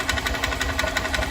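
A 125cc fuel-injected motorcycle engine idles with a small mechanical noise, a steady rapid ticking pulse running throughout at close range with no talk.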